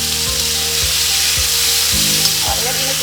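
Beef strips for Peruvian lomo saltado sear in a hot pan with a steady, loud sizzle that runs unbroken throughout, accompanied by a low tonal hum and periodic soft thumps.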